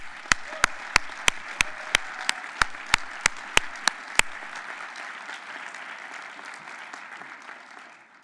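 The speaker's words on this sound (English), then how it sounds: "Let's give our chapter winners a round of applause." Audience applause at a hospital medicine awards plenary for chapter winners, starting with a series of sharp, evenly spaced claps over steady clapping that gradually fades away.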